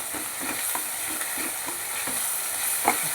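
Paste of coriander, green chili and garlic stirred in a hot pan, a spoon scraping in steady repeated strokes over a soft continuous sizzle, close and alone with no talking.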